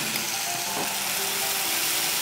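Red chili garlic paste sautéing in a teaspoon of hot oil for a spicy stir-fry soup, a steady close sizzle and crackle with faint clinking over it, no voices.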